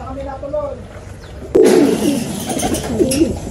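Pigeons coo softly inside a loft, repeated low throaty calls rising and falling, with a louder nearby burst of cooing and rustling partway through over a faint background.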